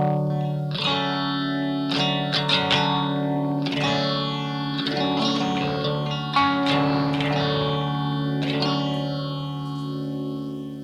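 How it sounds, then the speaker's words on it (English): Electric guitar played through a pedal board with a phaser switched on, its sustained chords swirling in slow sweeping waves with occasional picked accents, steady and moderately loud without talk. "I can go ahead and I can turn on like a phaser right over here"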